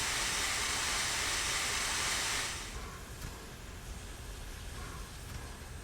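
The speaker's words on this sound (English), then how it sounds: "The largest steam locomotive in the world lives again." Union Pacific Big Boy 4014 steam locomotive in the Train Simulator 2019 game on Sherman Hill gives a loud broad steam hiss that cuts off after two seconds, leaving a lower steady rumble of rolling rail noise.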